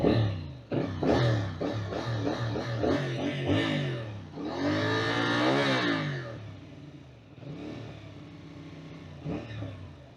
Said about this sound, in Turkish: Şöyle gaz verip bırakınca patlatıyor patır patır.